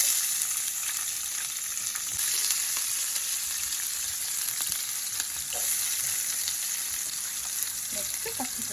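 Green eggplant pieces and chana dal fry in an oil-filled pan with a steady, close hiss and crackle that runs evenly throughout, with a few faint clinks toward the end.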